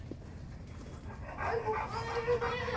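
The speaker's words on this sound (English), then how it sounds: "And here's my dogs." Several pet dogs at a home give short yips and bow-wow barks at moderate distance, mixed in with people talking nearby.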